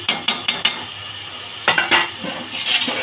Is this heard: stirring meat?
yes